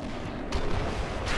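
A sniper rifle quickscope shot in Sniper Elite: Nazi Zombie Army 2, a loud booming report midway through the brief moment followed by a second sharp burst near the end.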